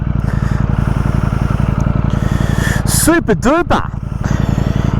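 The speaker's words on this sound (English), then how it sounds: "What a great rumble from that exhaust and that V4." A 2023 Ducati Streetfighter V4S motorcycle with a V4 engine gives a steady, pulsing exhaust rumble throughout, and a brief revving surge comes midway. Someone speaks briefly over it.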